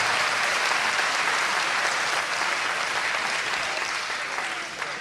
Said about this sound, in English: It's okay, you can clap for that.